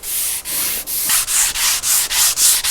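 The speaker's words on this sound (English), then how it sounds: "you want to start sanding in the direction of the wood" Sandpaper is rubbed by hand along the grain of a wooden board in about seven even back-and-forth strokes, each a close, scratchy hiss with a brief pause between passes.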